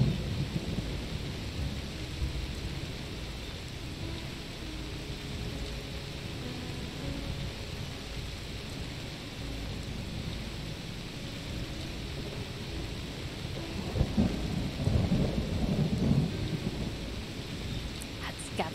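Rain and thunder sound in the video game Enderal, a Skyrim mod, as a steady hiss of rainfall with low rolling rumbles that swell louder near the end, heard alone without talk.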